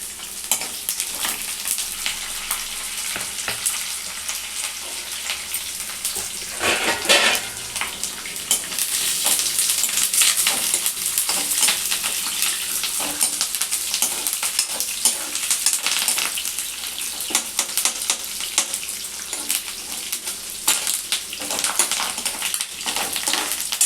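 Popu tempering with curry leaves frying in a pan, a steady dense crackling sizzle with bursts of spattering and occasional stirring scrapes, close and continuous without talk.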